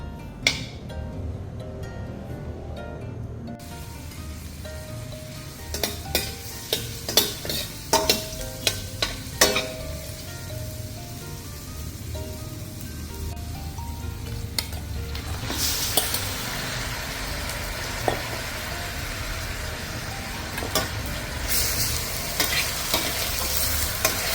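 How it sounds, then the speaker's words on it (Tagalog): Soaked mung beans sauté with pork in a pan, giving a continuous hiss of frying broken by bursts of clinking and scraping from stirring, with a louder sizzle surge toward the later part and no speech. "Saka ko, igigisa ko, palalambutin ko kasama na yung karne"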